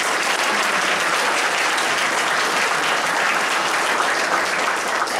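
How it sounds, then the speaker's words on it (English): Loud sustained applause from a conference audience at a university sport management event, dense and even throughout with no break. "Alex, please give a round of applause."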